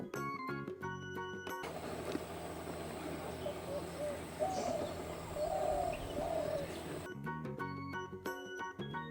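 A bulbul gives short, quiet chirping calls in a soft outdoor ambience, framed by stretches of music before and after.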